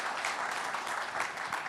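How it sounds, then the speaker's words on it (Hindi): An audience welcoming Uttar Pradesh chief minister Yogi Adityanath breaks into dense, steady applause, close and loud, with many hands clapping throughout and no pause. "तालियों के साथ उनका स्वागत कीजिए।"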